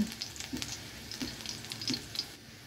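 Food sizzles quietly in a pan while a spoon stirs it for a Yippee noodle recipe: a steady soft frying hiss with a few faint scrapes and clinks, with no talking.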